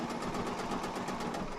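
A sewing machine runs steadily while a Christmas pillowcase is stitched, giving a continuous mechanical whir with a quick, even pulsing beat that stays close and moderately loud throughout, with no talking.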